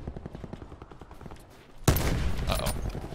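Gunfire in Call of Duty Black Ops 4, first quieter rhythmic shots, then a sudden loud burst of close, dense rapid fire that continues to the end.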